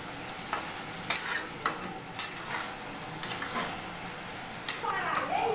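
Chicken and potatoes being stir-fried in a pan, with a steady sizzle under repeated scraping and stirring clicks of a spatula, fairly close and moderate in level.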